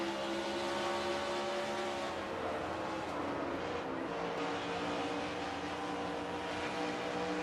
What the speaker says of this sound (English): On board Keith Batson's car, number 28.